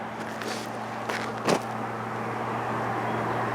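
Cars pass along Highway 39, a fairly faint, steady roadside hum of traffic with a low droning tone and one brief closer whoosh partway through.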